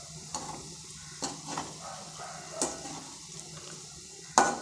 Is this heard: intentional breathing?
no